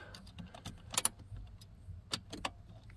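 Car keys jangle and click against the ignition of an old barn-find Commodore, a few sharp metallic rattles close by in a quiet cabin.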